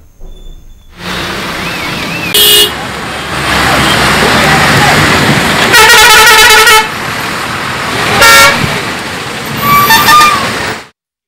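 Repeated car and truck horns blare in a heavy traffic jam at Pathangi toll plaza during the Sankranti holiday rush, several long honks overlapping above a steady rumble of idling engines, with voices faintly mixed in.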